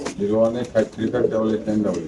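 Racer pigeons at a Dhaka pigeon farm coo in a steady rolling stream of soft throaty calls, close and continuous, alongside a voice speaking.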